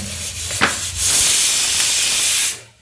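A loud, steady rush of hissing steam bursts from a pressure cooker whistle cooking meat, holding for about a second and a half, then cutting off, after a brief sharp hiss just before.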